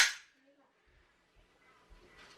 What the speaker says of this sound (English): you're going to hear a click when you release the trigger